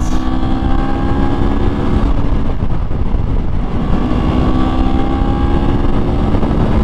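A Moto Morini motorcycle engine runs at full throttle on a ride, with a loud, steady roar and strong droning tone mixed with heavy wind noise, continuous throughout.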